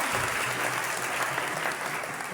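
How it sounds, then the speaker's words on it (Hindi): A church congregation gives loud, sustained applause, a dense even wash of clapping that fills the whole stretch without pause or voices. "जोरदार तालियां बजाएं खुदा के हादम के लिए।"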